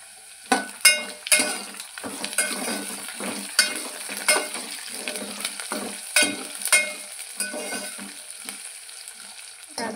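Carrots are added to a pot of masala khichdi, frying with a steady close sizzle and repeated scraping and clinking of a spoon stirring against the pan, with no voices.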